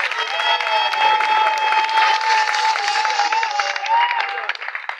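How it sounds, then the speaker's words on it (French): A crowd at a political rally for a candidate in Gabon applauds and cheers in a steady, dense wash of clapping and voices that fades slightly at the end. "Est-ce qu'on peut applaudir pour le candidat Oligui?"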